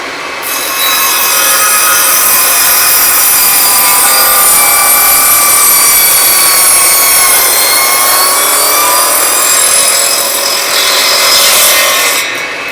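A saw rips steadily through 2x3 pine lumber, trimming it down for scrap-wood sanding blocks; the loud, continuous rasping cut runs close and alone for about eleven seconds before trailing off.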